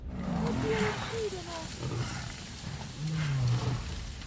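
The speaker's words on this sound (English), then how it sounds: "But the lion, barely standing, growls back in defiance." An injured lion growls in a wild confrontation with buffalo, with low rumbling growls in several bursts at moderate loudness, mixed with other background sound.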